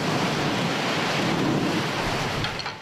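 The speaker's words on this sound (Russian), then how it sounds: "Ветер сдувает поезд с рельсов, будто это детская игрушка из пластика." Strong storm wind from hurricane Burglind roars steadily with broadband gusting noise, loud and unbroken throughout, and no voices.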